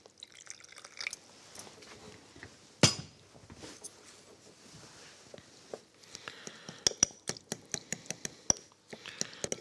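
Two forks stir bazhe sauce concentrate with water in a bowl, giving scattered metallic clinks and taps against the dish, sharp and close, over soft wet stirring.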